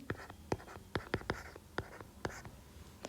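Math being written on a board or paper for a calculus problem: a series of crisp, short scratching strokes in an irregular rhythm, close and fairly quiet, with no talk.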